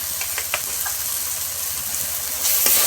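A paste of ground poppy seed, mustard, green chilli, ginger and cashew sautéing in a pan for a pabda fish curry, giving a soft steady sizzle with a few light stirring clicks, alone and close.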